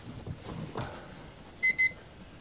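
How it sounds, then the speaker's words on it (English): Sargent CAN Bus DC/DC charger giving two short, bright electronic beeps in quick succession after power-up, fairly near, following a quiet stretch with faint background noise. "Beep beep."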